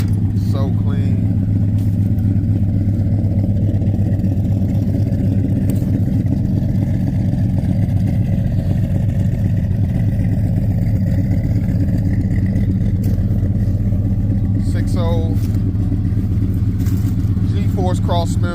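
An LS-swapped Monte Carlo G-body running low on gas idles steadily after start-up with a loud, deep, continuous rumble up close, while people talk over it.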